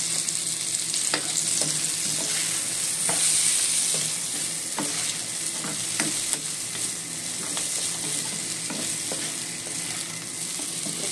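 Mushrooms sizzle and fry steadily in a hot pan for a pork chop and bell pepper dish, with occasional stirring clicks and scrapes over a constant close crackle.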